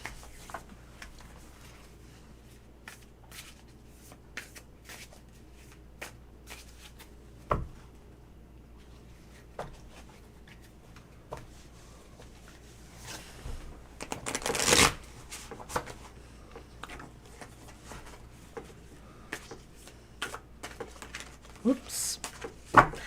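A new, slippery tarot card deck is shuffled, with soft riffling and sliding cards, scattered snaps and taps, faint and close, under a quiet room background.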